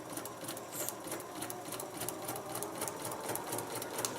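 Sewing machine stitching paper-pieced fabric, a steady fast mechanical whir with rapid needle clatter running continuously and close, with no voices.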